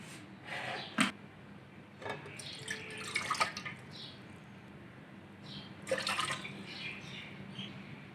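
Water splashes and trickles into a metal pot on the stove in short pours, with faint clinks and drips in between, close by and fairly quiet.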